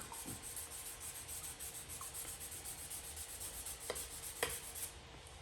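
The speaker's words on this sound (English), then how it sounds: "that's the gray that's coming back after sanding off this guide coat" Continuous rhythmic rubbing of sandpaper sanding off a guide coat on a motorcycle fender filler, soft and even, with a couple of faint taps near the end.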